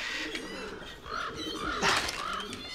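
Pigeons or doves cooing softly nearby, several repeated low coos in a gentle rhythm amid rustling and some background noise, no one speaking.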